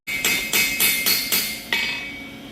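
A hammer beats the edges of a metal piece in a blacksmith shop, six sharp ringing strikes in an even rhythm, close and loud, each leaving a short metallic ring.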